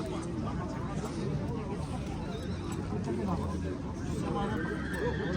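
Horse neighing at a livestock market in Talas, a long whinny under a dense crowd babble and steady bustle, with people talking throughout.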